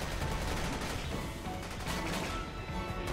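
Mounted gun in a shooter video game hammering out steady rapid fire, loud and close, a dense continuous burst over a few seconds with crashing impacts mixed in.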